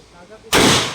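A single loud gunshot cracks sharply at a firing range after a moment of quiet room noise, its broad blast lingering briefly as it decays.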